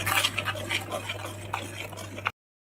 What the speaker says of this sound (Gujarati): તેલ છૂટે ત્યાં સુધી એને સતત હલાયા જ કરવાનું છે।